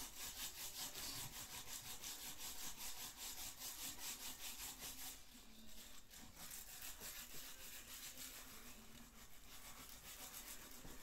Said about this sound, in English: a little bit of sanding before we move on to the next stage